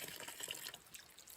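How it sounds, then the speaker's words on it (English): Water runs from a faucet on a gravity-fed water main during hand washing, a faint, steady splashing hiss heard briefly with no talk. "Wash my hands."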